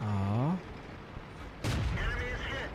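A single loud, sharp tank cannon blast goes off mid-way in a World of Tanks battle, with a voice talking before and after the shot.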